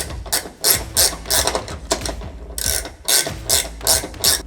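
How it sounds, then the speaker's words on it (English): A 5/8 inch ratcheting wrench tightens a door lock bracket on a RAM ProMaster City, giving close, crisp ratchet clicks in short regular bursts, two clear rounds with a brief pause between. "Just for reference, this is a 5/8 inch wrench."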